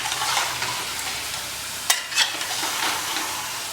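Chicken curry sautéing and frying in a pan, a steady close sizzle with a few sharp clinks of a stirring spoon near the middle, and no talk.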